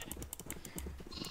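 Sheep bleating in the video game Minecraft, several short bleats repeating in quick succession over a steady background, fairly close and moderately loud.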